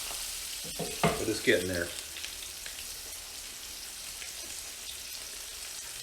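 Smoked ribeye steak reverse-searing Texas-style, giving a steady soft sizzling hiss throughout, with a brief spoken remark near the start.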